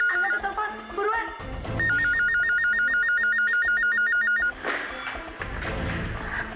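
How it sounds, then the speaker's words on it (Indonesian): An electronic telephone rings in a rapid warbling pattern for a few seconds over background music, and voices speak around it. "Angkat tuh telepon, buruan."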